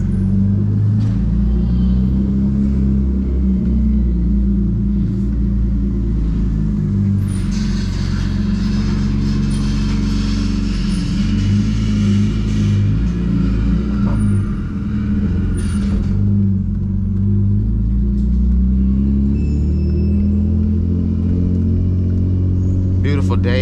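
Manual BMW E36 328i with a loud aftermarket exhaust, heard from inside while driving: a deep, steady engine drone with shifting revs and rumble, loud and continuous throughout.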